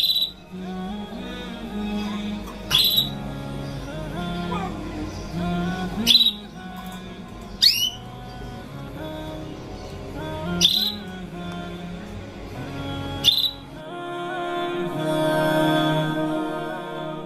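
A caged pet bird gives a handful of sharp, high chirps and squawks, spaced several seconds apart, close by over a low domestic background hum.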